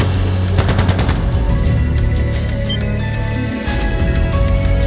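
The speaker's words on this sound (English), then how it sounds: "That sounded like gunfire." Sustained gunfire from the video game Trails of Cold Steel 2, a loud, dense stream of rapid machine-gun bursts and overlapping shots over a steady low rumble, easing briefly near the end before resuming.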